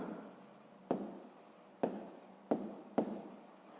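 Someone writes numbers by hand for a fifth-grade math exercise, making soft scratchy pen strokes with four sharp taps as the pen meets the paper, close and with no talking.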